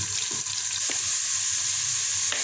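Sliced onions fry in oil in a pan, browning lightly for a palak chicken curry, giving a steady soft sizzle with faint stirring clicks.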